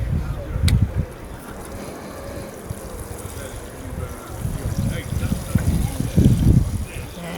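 Water poured from a can or hose onto allotment soil around a freshly planted plant, a soft steady splashing and trickling close by, swelling louder near the end under low outdoor noise.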